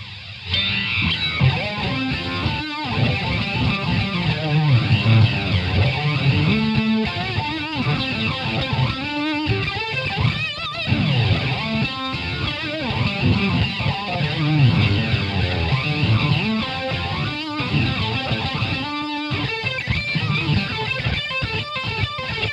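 Heavily distorted electric guitar chords and riffs through a DS-1 distortion pedal and a flanger, with a swirling, sweeping flanger effect, played continuously and loud for the whole stretch.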